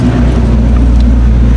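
A Honda Wave 110i motorcycle fitted with a James aftermarket exhaust pipe runs close by, producing a loud, steady low-pitched exhaust drone with no talking.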